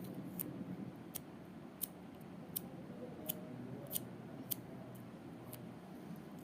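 Packaging of a Maono microphone being opened, with regular sharp snips or clicks about every half second to second, moderately close over a steady low background hum.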